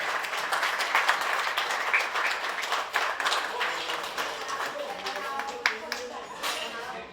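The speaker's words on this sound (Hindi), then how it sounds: "जय श्री संदीप पाटिल जी के लिए जोरदार तालियां" Audience applause at a film trailer tribute event, steady clapping from a large crowd with a voice speaking over it and scattered louder claps toward the end.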